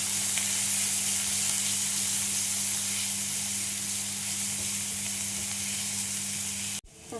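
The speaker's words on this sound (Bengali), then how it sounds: "পেঁয়াজটা ভেজে নেবে।" Sliced onions sizzle steadily in hot oil for a tengra fish curry, a loud continuous frying hiss with a low steady hum under it, cut off abruptly near the end by a handling knock.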